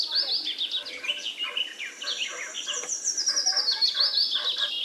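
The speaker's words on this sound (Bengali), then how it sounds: "আর গরমে পাখির ডাকগুলো এমন হচ্ছে," Birds calling in summer heat, a run of high, thin chirps and trills that repeat at close range over a quiet background, with no speech.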